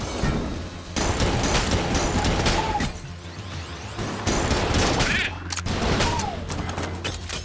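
Rapid firing from the Stinger gun in Enter the Gungeon, dense bursts of shots with brief pauses and scattered game effects in between, loud and up close.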